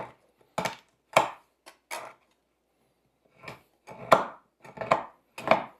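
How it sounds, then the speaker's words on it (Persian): A knife chops chocolate for banana bread on a board, several sharp, distinct taps in small uneven clusters separated by brief silences, close and clear without talk. "شکلاتمون هم باید خوردش کنیم."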